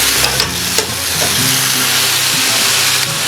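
Chopped tomatoes hit a hot pan of mushroom and asparagus paella with a continuous close sizzle and a few sharp crackles and stirring clicks.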